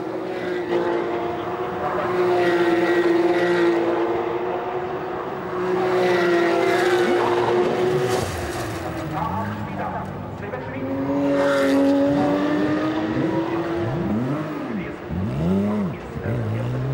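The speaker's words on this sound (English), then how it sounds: "And the sound of those Porsches." Porsche Carrera Cup race cars screaming around the Nürburgring, engines wailing and rising through gears as several cars pass by in sweeping Doppler arcs, with a commentator talking over the loud racing.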